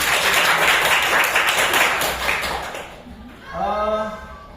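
Vocational high school class clapping together in a classroom, a strong burst of many hands for about three seconds that tapers off, then the teacher starts talking.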